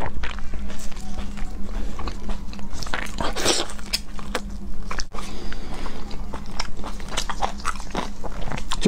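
Close-up eating of Northeastern Chinese blood sausage with a slightly tough casing, with continuous wet chewing and repeated crunchy bites throughout, recorded very near in a mukbang setting.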